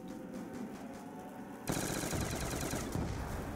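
Automatic gunfire in Black Ops II Zombies, a rapid continuous burst that starts suddenly and keeps up a dense, loud rattle after a quieter stretch of game ambience, with no voices.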